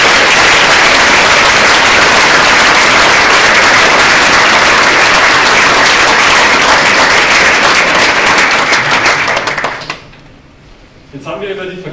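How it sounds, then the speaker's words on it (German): Loud, sustained applause from a large audience at a German event, a dense wash of many hands clapping together for about ten seconds before cutting off abruptly, followed by a voice starting to talk. "Nochmal ein großer Applaus"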